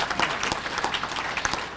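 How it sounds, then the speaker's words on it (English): Banquet guests at a sports hall of fame enshrinement give an inductee a warm, steady round of applause that is close and continuous. "give him a round of applause."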